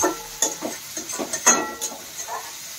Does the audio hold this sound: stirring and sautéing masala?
yes